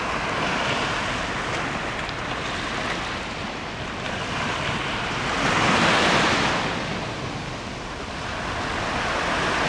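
Ocean waves wash onto a tropical beach on Oahu, Hawaii, as a steady broadband surf roar with one swelling surge midway, mixed with wind buffeting the microphone. No voices.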